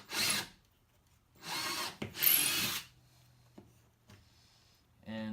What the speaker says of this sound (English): they will split really, really easily if you do not drill a pilot hole through it